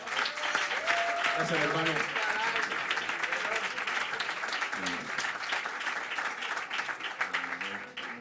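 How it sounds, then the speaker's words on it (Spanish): Loud, steady audience applause at a flamenco and Latin music concert in Madrid, filling the whole stretch while someone speaks over it into a microphone. "te aplaudimos otra vez"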